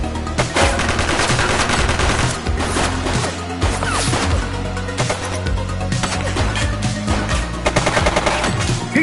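Dense, continuous gunfire from The Precinct, a video game, with rapid automatic bursts and sharp impacts over a busy backing of music or sound effects, loud and steady for about nine seconds.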